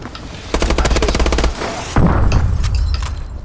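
Rapid automatic gunfire from the video game Call of Duty: Advanced Warfare rattles out as a loud, dense burst of shots, then a short pause, then further heavy firing and impacts.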